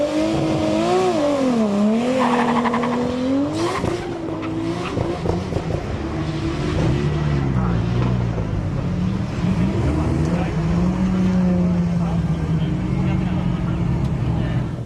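A red Toyota Supra race car on sticky Nitto 555R tyres drives at speed, its engine revving and shifting continuously near the rev limiter, with a commentator talking over the engine throughout.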